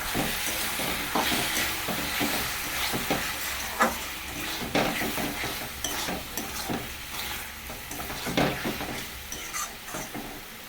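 Ginger, cumin, chili and tomato sautéing in a pan with salt and turmeric, a continuous close sizzle with repeated scraping stir strokes throughout, irregular and fairly loud.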